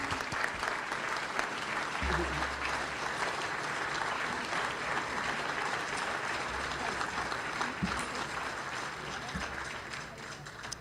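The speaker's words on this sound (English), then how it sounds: "let's give them all a round of applause" Sustained applause from a sizable crowd, steady and fairly loud throughout, with a low rumble underneath.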